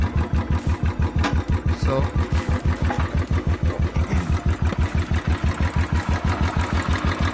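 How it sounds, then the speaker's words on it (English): A Royal Enfield Bullet 500 single-cylinder motorcycle engine idles with a steady, loud, evenly spaced thump, each beat distinct, and a brief spoken word near the start. "to increase the engine idling,"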